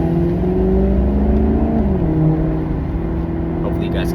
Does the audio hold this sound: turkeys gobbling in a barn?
no